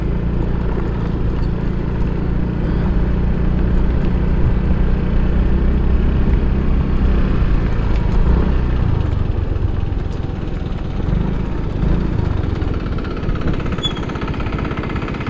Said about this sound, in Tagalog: mininor din natin ng konti yung makina para hindi ganun kalakas ka kumain ng diesel